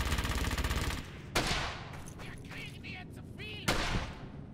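World War II machine gun fire in the video game Brothers in Arms: Hell's Highway, with an MG42 laying down suppressing fire: a rapid burst of shots followed by scattered gunfire, moderately loud, with game voices between the bursts.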